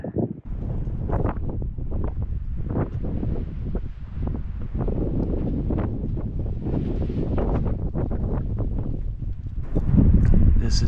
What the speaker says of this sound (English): we're in this canyon here, so it is causing a lot of wind